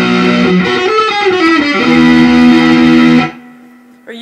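Distorted electric guitar playing a riff, a loud gritty sliding phrase settling into a held power chord that cuts off, leaving a faint ringing tail.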